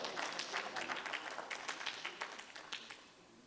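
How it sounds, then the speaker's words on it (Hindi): Audience clapping at an Urdu poetry competition event, a lively burst of applause that gradually thins and fades out toward the end. "एक बार फिर जोरदार तालियाँ और इनको मुबारकबाद"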